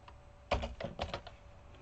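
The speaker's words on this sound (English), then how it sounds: "type in characters" Several quick keystrokes tap on a computer keyboard in a short burst, close and quiet, with a brief pause between two clusters of clicks.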